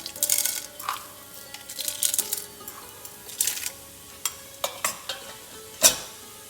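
Cumin seeds with urad and channa daal sizzle in hot oil for a spicy Andhra-style banana fry, a steady crackle broken by close stirring scrapes and sharp utensil clinks against the pan.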